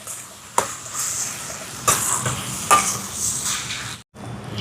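Mashed boiled potato stirred into a sautéing mixture in a frying pan for a cheese prawn rotti filling, with a steady sizzle and a few sharp scrapes of the spoon against the pan, close and alone.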